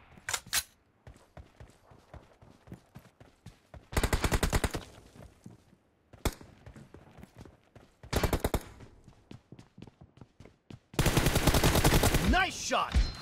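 Gunfire in a video game team deathmatch, loud bursts of rapid automatic fire between sparse single shots and clicking, with quiet gaps between volleys and a long sustained burst near the end.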